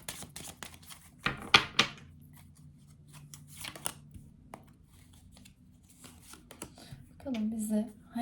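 A deck of tarot cards is shuffled and riffled in short crisp bursts, with a loud flurry early on, heard between stretches of a person speaking.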